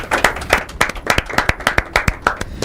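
Sparse, distinct hand claps from a small group at a school debate competition, individual claps rhythmic and close, sounding thin rather than a full ovation.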